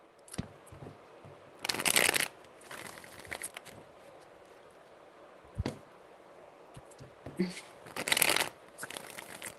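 Tarot deck being shuffled by hand: two loud riffling bursts with softer card flicks and taps between, close and unaccompanied by talk.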